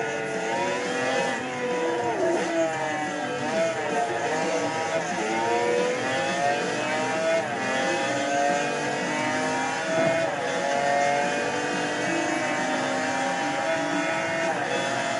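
A race car engine screams along the Mulsanne Straight of the Le Mans circuit in a video game, a steady high-pitched whine with rising and falling revs as gears shift, heard alone.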